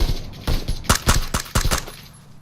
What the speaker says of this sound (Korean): 어우 쏘는 소리 오, 쏜다